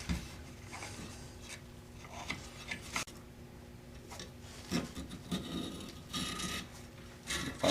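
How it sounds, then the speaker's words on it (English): Surrounds being pried and pulled loose from a JBL 4301B studio monitor's speaker cone, a series of close, quiet scraping and tearing rubs with irregular crackles and pauses. "run around the outside and pull up the surrounds, trying not to gouge this gasketing material right here"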